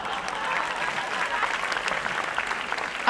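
An audience claps steadily through a comedy stage show, a dense, continuous patter of many hands with some crowd noise mixed in and no pauses.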